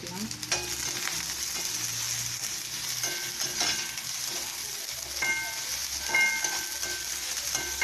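Chopped carrots and beans stir-frying in hot oil for wheat-flour vegetable noodles, giving a steady close sizzle with scraping stirs and clinks of a spoon against the pan throughout, no voices.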